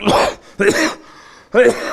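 A man still recovering from an infection coughs three times in quick succession, each cough harsh and throaty. The coughs are close, loud and alone, with short pauses between them.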